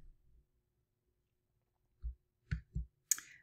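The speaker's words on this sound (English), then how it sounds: "From here, I'm going to click the Create New Project." Several sharp computer mouse clicks at a desk while a software program is opened, a single soft click followed by a quick pair and a brighter final click, close and isolated in quiet.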